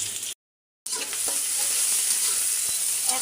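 Pointed gourd with chopped garlic, onion and chilli being stirred and fried in oil in a wok, a steady broadband sizzle with scraping stirs, briefly cut by a short gap of silence before the frying resumes.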